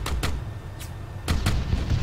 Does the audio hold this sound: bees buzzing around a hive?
no